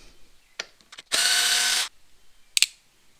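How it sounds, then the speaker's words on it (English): Screws on a C6 Corvette worked loose with a hand screwdriver: a few faint clicks, then one dense ratcheting burst under a second long, followed by a couple of sharp ticks. "We're just going to undo these two screws right here."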